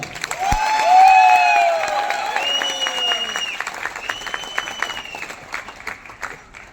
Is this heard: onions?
no